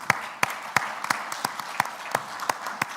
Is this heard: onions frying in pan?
no